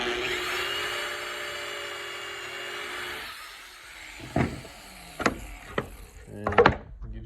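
A drill whirs steadily for about three seconds, boring a pocket hole through a clamped cabinet board in a pocket-hole jig. It winds down, followed by several sharp wooden knocks and clatters nearby.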